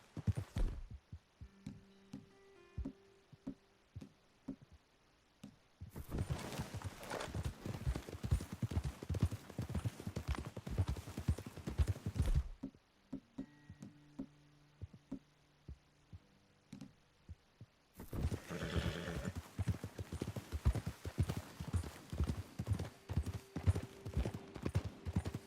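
Horses' hooves clip-clop steadily and close by in Red Dead Redemption 2, ridden over open ground in a rhythmic walking gait, with a low hum beneath and short pauses between stretches of riding.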